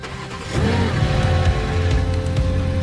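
A rebuilt, crash-damaged BMW M3 Competition engine cranks and catches, then settles into a loud, steady idle with a slight rise, heard close up with no talk.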